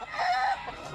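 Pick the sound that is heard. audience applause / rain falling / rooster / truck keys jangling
rooster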